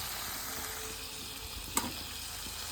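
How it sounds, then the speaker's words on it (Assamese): Egg frying in a pan gives a steady, close hiss of sizzling oil, broken by one brief clink partway through. "সিফালে মই ডিমটো ফ্ৰাই কৰি লওঁ"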